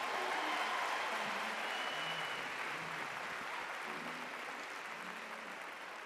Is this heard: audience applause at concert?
yes